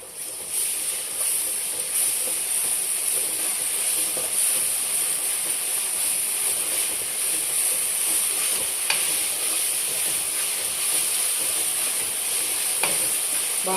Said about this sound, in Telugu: బాగా ఎర్రగా వేయించుకోవాలండి అల్లం వెల్లిపాయ పేస్ట్.